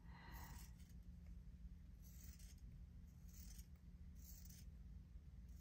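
Quiet snips of scissors cutting fabric for stitching, several short bursts spaced a second or so apart over a low steady background hum.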